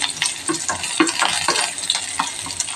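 Shallots fry in hot coconut oil with mustard seeds for a tempering, making a steady close sizzle with rhythmic stirring scrapes and occasional crackles.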